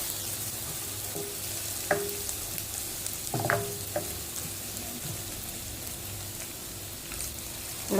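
Chopped onion sizzles and fries steadily in a pan, a constant crackling hiss with a few clinks and scrapes of a utensil stirring, close and moderately loud with no talk.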